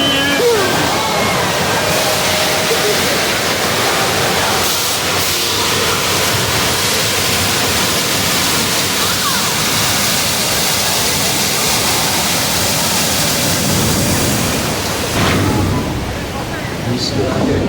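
A loud, continuous rush of crashing water from a tsunami deluge effect on the Universal Studios Hollywood tram tour, heavy pouring and splashing, roaring steadily for the whole stretch with a slight dip near the end.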